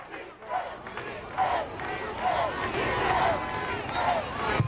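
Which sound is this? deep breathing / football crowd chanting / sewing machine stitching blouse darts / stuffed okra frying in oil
football crowd chanting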